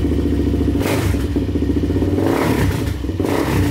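A Suzuki LTZ400 quad idling loud and close, its engine chugging in a steady rough pulse with a couple of brief throttle swells and some mechanical clatter, no voices.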